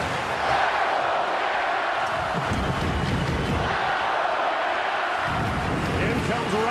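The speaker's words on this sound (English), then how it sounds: "The crowd still buzzing about that near goal" Arena crowd at an ice hockey final between Canada and Finland keeps up a loud, steady murmur after a near goal, with a commentator talking over the roar.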